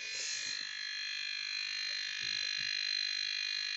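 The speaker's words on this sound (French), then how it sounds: "ça c'est mon cuiseur. Qui fait du bruit, ça veut dire que les œufs sont cuits." Egg cooker buzzing to signal that the eggs are done, a steady, continuous electronic buzz that fills the room, faint in level, with a little soft background movement underneath.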